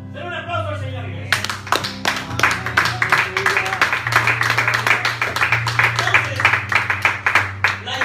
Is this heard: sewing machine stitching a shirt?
no